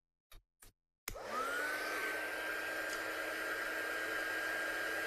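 Two short knocks sound before a heat gun switches on and blows with a loud, steady whoosh and a constant whine, drying watercolour paint on craft card at close range.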